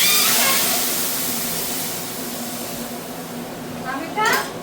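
Kadhi batter is poured into hot oil with red chillies, sending up a loud, sustained sizzling hiss that slowly settles, with a brief clatter near the end.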